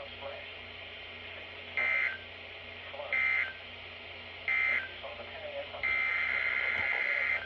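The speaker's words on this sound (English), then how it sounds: "This has been a test of the NOAA Radio Public Warning System." NOAA Weather Radio emergency alert system test tones play as four short, evenly spaced electronic bursts, the last one held longer, over a low broadcast hum.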